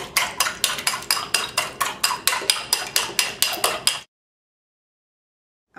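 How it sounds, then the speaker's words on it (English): Eggs are beaten in a bowl for a potato pizza, giving a fast, steady run of light clicking strokes for about four seconds before stopping abruptly into silence. "Now I'm going to beat the eggs, just like that, just to break the yolk."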